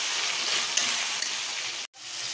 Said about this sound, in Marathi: ते पण कच्चेपणा जाईपर्यंत 1-2 मिनिटं आपल्याला हे परतून घ्यायचं।